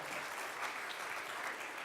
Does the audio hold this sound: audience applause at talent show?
yes